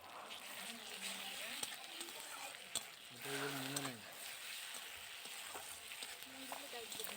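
Paste of ground cumin, dried red chilli, turmeric and ginger sizzling and spattering steadily in a pan, with occasional stirring scrapes and a brief voice speaking partway through.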